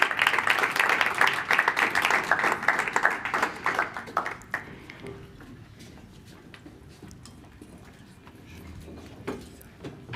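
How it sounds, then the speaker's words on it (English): Audience applause for the musicians at a demo day event, a dense burst of clapping for the first four seconds that thins out and fades to scattered faint claps and room noise. "Applause for our musicians."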